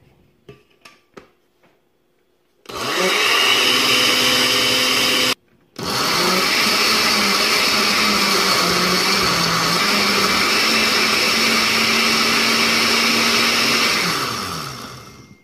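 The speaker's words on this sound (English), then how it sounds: "We're just going to blend" An electric blender whirs loudly and steadily as it purees tomatoes for a Nigerian chicken stew, briefly cutting out and restarting, its motor pitch dipping and wavering as the load shifts, after a few light clicks at the start.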